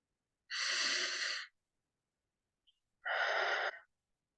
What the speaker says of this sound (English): Breathe it in 2 more times.